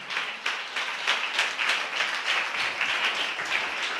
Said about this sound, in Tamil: நல்ல தலைக்கு மேல கூட கைத்தட்டி தேவனை மகிமைப்படுத்துங்க.